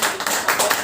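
Audience at a business presentation claps loudly, dense overlapping hand claps with uneven bursts, close and continuous throughout.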